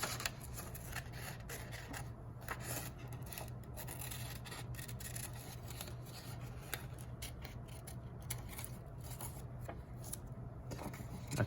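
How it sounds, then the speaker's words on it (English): Scissors cutting paper for a jack-o'-lantern face, faint close snipping and rustling scrapes repeating irregularly over a low background hum. "put the scissors in the hole, cut out the eye"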